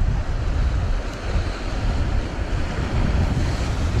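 Gusty wind blows across a microphone at the seashore during shore fishing, a steady loud roar with surf washing underneath, no voices.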